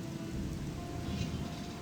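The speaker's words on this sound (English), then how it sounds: "we have awoken to a rainy morning" Steady rain falls in the video game Gothic 2 on a rainy morning, a dense even patter that fills the scene alone with no talk.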